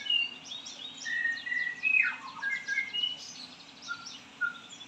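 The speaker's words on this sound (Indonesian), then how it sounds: "Kita pagi ini coba eh, bikin konten burung murai punya" A white-rumped shama sings in the morning, sharp clear whistles and trilling phrases repeating over a few seconds, fairly faint against a quiet background with a low hum.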